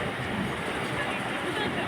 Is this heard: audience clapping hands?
no